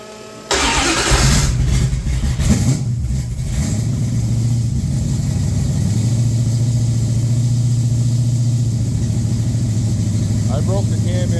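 A stock-stroke Mopar 340 V8 with a Thumper cam cranks and fires after a brief quiet start, then settles into a loud, lumpy, loping idle heard up close.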